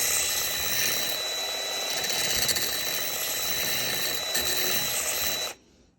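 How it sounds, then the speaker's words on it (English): A band file sander fitted with 220 grit sandpaper works slowly along a chainsaw bar, giving a steady, loud high-pitched whine and abrasive hiss that cuts off abruptly near the end. "This is a 220 grit sandpaper on the band file sander, and I'm going really slow."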